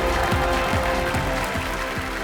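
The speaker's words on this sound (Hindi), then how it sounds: "तालियां बज जाए उनके लिए।" Studio audience applause on the set of the Hindi TV quiz show Kaun Banega Crorepati, Season 11, a steady dense wash of clapping over about two seconds with a low musical tone underneath.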